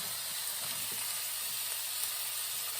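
Pot roast meat searing lightly in a hot pan, giving a steady, even sizzle and frying hiss throughout with no talking.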